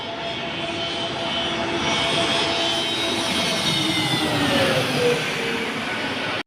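An airplane passes overhead at night with a steady, moderately loud jet-engine roar and rumble that swells slightly and then holds, alone without voices.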